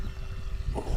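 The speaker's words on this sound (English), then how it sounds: "It's interesting the way it cuts the water." A 3D-printed RC jetboat cuts through water outdoors, a close low rushing churn of wake and spray with a brief surge of splashing near the end.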